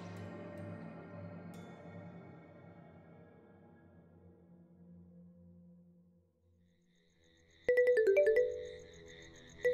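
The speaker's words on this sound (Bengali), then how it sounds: "সেই রাতে ডিরেক্টর সুবিনয় বাবুর ফোন এলো।" A phone ringtone bursts in loud and close near the end, a short repeating electronic melody that follows a fading stretch of background music, with no voices.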